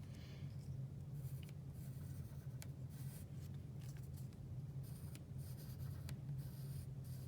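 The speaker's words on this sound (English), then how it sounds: "I'm just gonna put a little line on this one, and this one, this one." Pen or pencil scratching steady lines across folded paper fraction strips, a continuous close dry scraping with short strokes and pauses, over a low constant room hum, no talking.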